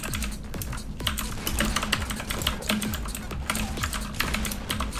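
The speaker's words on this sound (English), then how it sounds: "These definitely do feel like a nice crunchy blue switch." Rapid, crisp clicking of a mechanical keyboard with blue switches being typed on up close while gaming, keystrokes tumbling in quick, uneven bursts.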